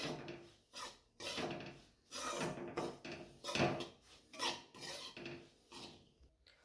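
Semolina being stirred and dry-roasted in a pan makes a rhythmic rasping scrape as the spoon drags through the grains, repeating roughly every half second, close and steady with no talk.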